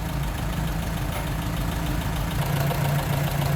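A 1928 Willys Whippet Model 96 inline four-cylinder engine idles steadily and smoothly close by, a continuous low even hum with no talking.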